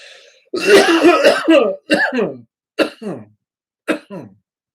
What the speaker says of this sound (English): Man, I have a cough all of a sudden.